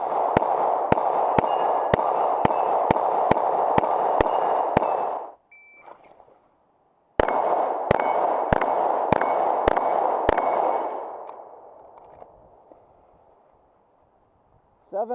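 A Smith & Wesson M&P C.O.R.E. 9mm pistol with a Trijicon RMR sight fires two quick strings of sharp, loud shots at a 7-yard range, about eight then six, separated by a short pause and a brief beep.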